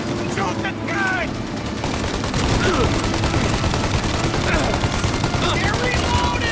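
Rapid gunfire in the video game Mafia: Definitive Edition, dense bursts of automatic fire and shots crackling continuously and loudly, with shouted voices briefly heard early on amid the shooting.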